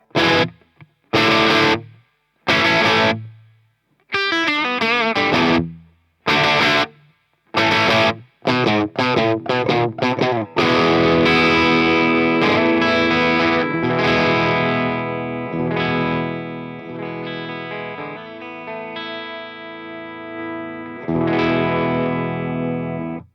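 Electric guitar, a Gibson SG on the bridge pickup, through a CTC Heatseeker pedal set for a crunchy Marshall JTM45 tone: short chords and stabs with pauses, then sustained ringing chords and riffs, loud and near, no talking.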